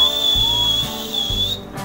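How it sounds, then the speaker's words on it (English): A shrill, steady whistle blown through the hands, one long high tone that wavers slightly and breaks off near the end. "ganito pa lang ako mag-whistle"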